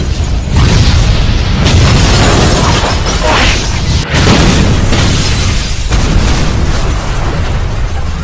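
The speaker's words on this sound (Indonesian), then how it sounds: "Di mana Jong Suk tewas oleh sebuah ledakan yang luar biasa" A massive, loud blast roars continuously with crackling debris and rumbling bursts, sustained and overwhelming throughout.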